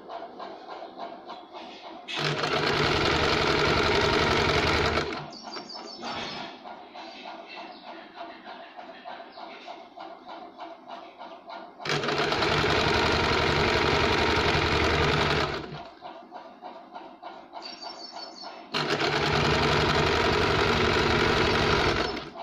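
An electric sewing machine runs in three loud bursts of rapid, steady stitching along a sleeve, with quieter hum and handling sounds between the runs.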